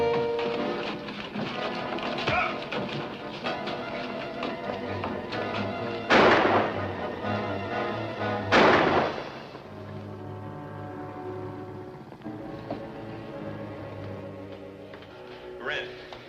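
Gunshots fired at a fleeing man in an old adventure film set around the China Sea: two sharp, loud bursts a few seconds apart, cutting through a continuous music score.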